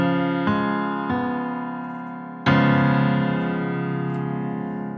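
A dominant seventh chord sounds out in a few separate sustained attacks, each ringing and slowly decaying, the last struck loudest, with no voices over it.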